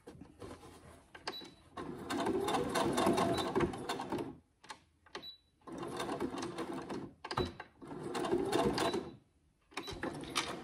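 Sewing machine stitching fabric for a small seatbelt shoulder pad, running in several bursts of a few seconds each with short pauses between, steady and close.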